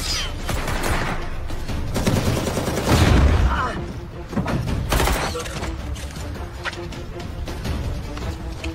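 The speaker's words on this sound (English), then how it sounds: "Somebody hit it with a flashbang!" A flashbang blast and bursts of rapid gunfire in a Danny Trejo action movie firefight, dense and loud throughout with a heavy boom near the middle, layered with music and effects.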